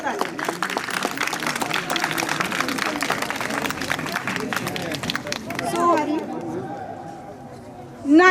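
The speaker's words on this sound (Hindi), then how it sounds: "एक बार जोरदार ताली" Applause at a community Republic Day celebration, a crowd clapping loudly and steadily amid chatter, fading out toward the end before a voice comes in.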